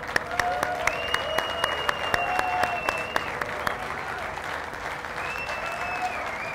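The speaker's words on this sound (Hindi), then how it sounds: "आपकी बहुत सारी तालियों में हमारे लेजेंड, हमारे बुजुर्ग, हमारे प्यारे, हमारी बहुत मोहब्बत अनवर मसूद साहब।" Applause fills the hall at an Eid mushaira held in September 2015, a sustained crowd clapping with a few sharper individual claps standing out, while faint tonal hums ride beneath.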